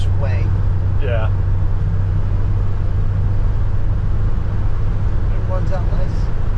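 A restored 1966 Chevy C10 stepside truck drives along the road with a low, steady engine and road rumble inside the cab, while people talk over it.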